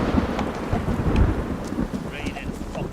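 Heavy rain pours down with rumbling thunder in a storm in the video game Witcher 3, a dense continuous downpour with low booming rolls and no voices.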